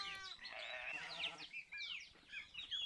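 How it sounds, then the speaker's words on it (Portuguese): A sheep bleats loudly and steadily for over a second, followed by a few shorter, higher calls, with no talk over it. "Era uma vez uma ovelha chamada Maria."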